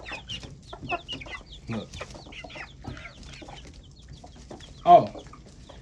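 Backyard hens, some of them broody, cluck in a busy, irregular run of calls, with one louder squawk near the end; a person speaks briefly nearby.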